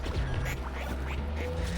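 A duck quacking in the video game Project PITT, set against a steady, dense bed of game noise and machinery hum, the quacks blending into the continuous background throughout.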